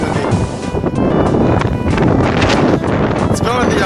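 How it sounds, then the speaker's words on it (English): Strong wind gusts batter the microphone outdoors in the woods, a loud, continuous roaring rush with buffeting bursts, while people talk over it. "it's windy"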